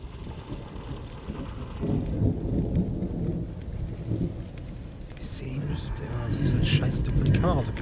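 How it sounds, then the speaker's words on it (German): A thunderstorm with rain in the video game The Evil Within: steady rainfall hisses beneath rolling rumbles of thunder that swell and fade, while a person talks over the storm. "Jo, Gewitter."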